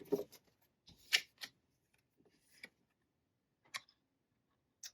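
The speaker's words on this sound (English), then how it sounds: "I'm going to keep shuffling a little bit longer" Soft, scattered clicks and light taps of tarot cards being shuffled, quiet and irregular, with short pauses between bursts.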